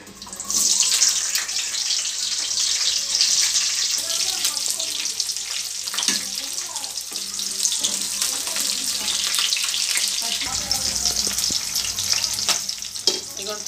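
Chopped onions frying in oil in a pan for kadai paneer curry give off a loud, steady, close sizzle. Stirring scrapes and shifts the sound throughout, with no talking.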